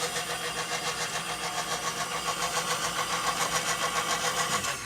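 Electric mixer creaming sugar at medium speed: a steady, loud motor whir with a rhythmic pulsing drone, continuous and close, no speech.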